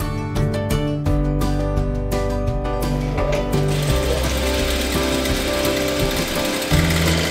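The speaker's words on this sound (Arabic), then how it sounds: "هذه أم حسين عم بتخيط" A sewing machine stitches a handmade doll with a loud, steady, close mechanical hum and chatter that runs without pause.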